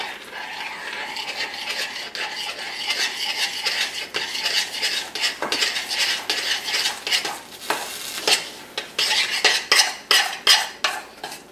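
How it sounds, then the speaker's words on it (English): A utensil stirs a cup of flour into a thick paste in a pot, making a close, rhythmic scraping and rubbing against the metal that grows sharper and more regular toward the end, with a light sizzle beneath and no voices. "And then you've got to start stirring this around."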